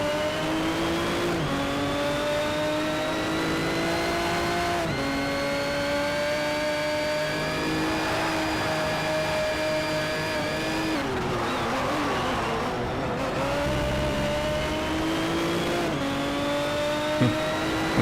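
Loud race car engine from the video game Need for Speed Shift 2: Unleashed, revving through gear changes with a slightly distorted tone and a brief tire squeal near the end, no talking.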